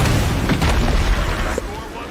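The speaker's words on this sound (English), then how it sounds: "And explosion." Explosions in the State of Decay 2 video game during multiplayer play: a dense, loud, continuous booming rumble with a sharper burst near the end, filling the whole stretch.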